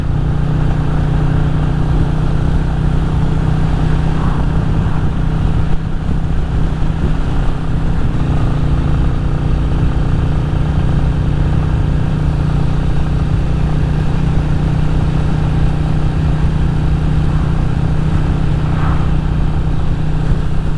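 Royal Enfield Classic 350 single-cylinder motorcycle on the move, a continuous loud, close engine thump with steady low rumble and wind noise throughout the ride.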